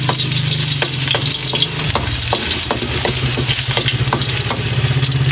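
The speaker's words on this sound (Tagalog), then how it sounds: "igigisa natin, uunahin natin yung ating luya" Ginger sautéing in a pan for shrimp sinigang gives a loud, steady sizzle and frying hiss close up, with faint scrapes of stirring running through it and no voice.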